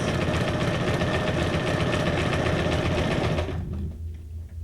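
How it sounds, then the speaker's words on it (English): A sewing machine runs in a steady, loud, fast whir while stitching junk journal ephemera pieces together with zigzag stitches, then stops near the end, leaving a quieter hum. "I'm like sewing like 4 of the pieces"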